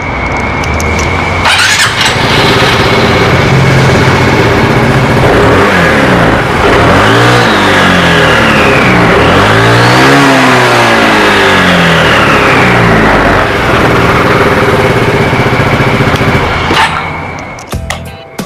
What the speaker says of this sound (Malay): ini pula bunyi untuk Aveta Nova 250. Bunyi dia mungkin lebih kurang sama sebab enjin yang sama